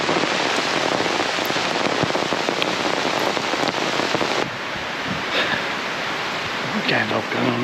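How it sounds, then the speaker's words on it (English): Heavy rain drums steadily on a wild campsite, loud and dense, easing slightly midway while a faint voice can be heard in the background. "I think it's definitely raining now."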